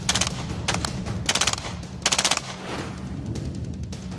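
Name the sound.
FN P90 submachine gun firing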